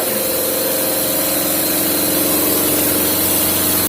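An Aqua twin-tub washing machine runs with a steady, loud motor hum and sloshing churn, continuous and close for about four seconds before cutting off abruptly at the end.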